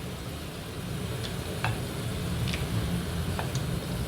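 A vegetable curry cooks in a pan and gives off a soft, steady sizzle, with faint scattered ticks and clinks, heard alone at a moderate distance.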